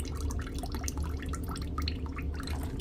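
Lactose-free whole milk is poured back into its container in a home kitchen, giving a steady, close liquid splashing and trickling that lasts throughout, with no talk.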